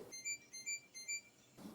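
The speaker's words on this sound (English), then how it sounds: "after a few minutes, we start to hear an alarm sound like this." A GE dishwasher sounding its error alarm: three evenly spaced bursts of high, bright electronic beeping tones, fairly faint and heard alone against a quiet background.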